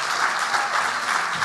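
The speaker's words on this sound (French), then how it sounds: "Et je pense qu'on peut les applaudir" Brief, dense applause from a conference audience at a PHP forum event, steady and moderately loud with no pauses.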